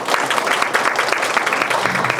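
Audience applause at a Korean disability support services research presentation, dense steady clapping filling the hall for about two seconds, moderately loud with no voices over it.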